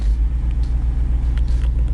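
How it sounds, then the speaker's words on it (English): A Jeep Wrangler 392 crawling in 4-low over rocks and logs, its engine giving a loud, steady low rumble close by, with no one speaking. "The Jeep is climbing."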